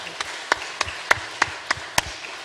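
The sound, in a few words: congregation clapping in church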